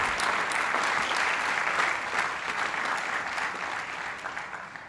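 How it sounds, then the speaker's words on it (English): Applause for the class of 2022 at a Columbia engineering school commencement ceremony, a broad, sustained roar of clapping from a large crowd, steady and fairly loud from start to finish. "A round of applause to the class of 2022."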